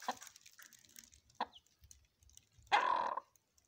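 A hen with chicks hatched two days earlier gives faint, scattered clucks, with one louder brief squawk near the end in an otherwise quiet setting.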